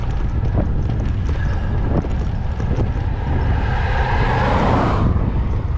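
Strong crosswind buffets a cyclist's microphone on a long road ride, a loud, continuous low rumble with gusty swells that peak near the end.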